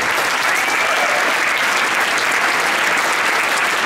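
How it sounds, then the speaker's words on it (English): Audience applause fills a school Pops 'n Jazz concert hall, a dense, steady roar of many hands clapping close and loud, sustained without a break from start to finish. "I think we should give them a warm round of applause"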